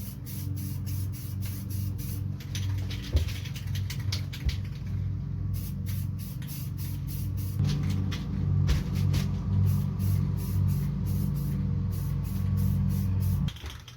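Steady hissing of an aerosol spray can laying a primer coat onto car wheels, continuous and close for most of the clip, with a low background rumble and a few short breaks in the spray.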